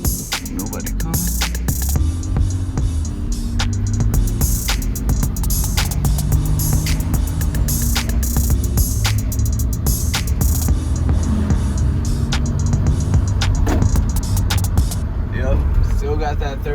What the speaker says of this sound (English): Still got that third gear grind.